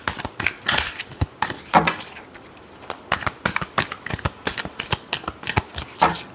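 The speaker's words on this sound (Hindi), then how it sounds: "last shuffle" Tarot cards are shuffled by hand in quick repeated riffling bursts, crisp and close, with brief pauses between flurries and no talking.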